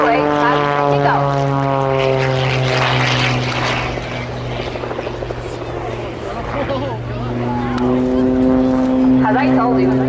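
Propeller aircraft performing a flying display at the RAF Cosford airshow, its engine drone loud and sustained with strong steady harmonics, dipping slightly mid-pass, while a commentator's voice talks over the scene.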